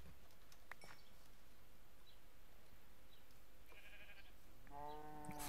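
Sheep bleat in Minecraft, a couple of soft distant calls and then a clearer bleat near the end, over a quiet steady game ambience.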